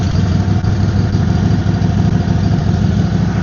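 A hot rod tractor engine runs at a loud, steady idle close by, with a continuous low rumbling throb and no pauses, the sound filling the whole stretch.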